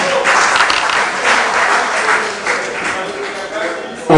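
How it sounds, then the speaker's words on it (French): Audience at a film premiere in Chicago applauds steadily and loudly for several seconds, dense broadband clapping with a faint voice or two underneath and a brief swell near the end. "On applaudit"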